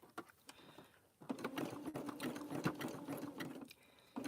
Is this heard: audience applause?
no